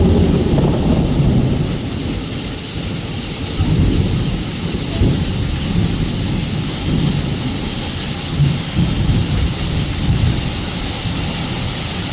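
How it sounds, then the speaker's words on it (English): Heavy typhoon rain pours steadily and loudly, with deep rolling thunder swelling beneath the constant downpour throughout. "The heavy rains, enhanced by the outer bands of a powerful typhoon currently weakening off the southeastern coast, swept inland at alarming speed"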